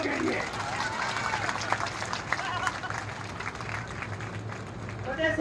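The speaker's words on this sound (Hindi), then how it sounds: "एक बार जोरदार तालियां हमारे 11 अनशनकारी साथियों के लिए" An audience at a rally for 11 hunger strikers claps in a sustained, moderately loud burst of applause that stays fairly even, with some voices mixed in.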